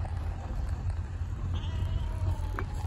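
A large flock of free-range sheep near Wyoming's Wind River Range bleats faintly in the distance, with a few short baas rising over steady outdoor wind and low rumble.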